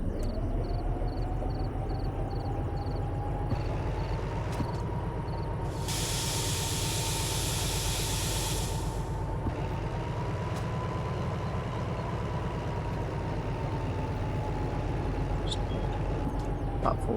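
A diesel locomotive in the train simulator Derail Valley runs through a restart with a steady low engine drone and rumble, a rising hum, and a burst of loud hissing in the middle, all continuous and close with no talk.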